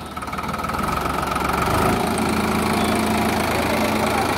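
A Sonalika DI 50 DLX tractor engine runs steadily nearby, a loud continuous diesel throb with a rough, knocking texture that holds even throughout, and no talk over it.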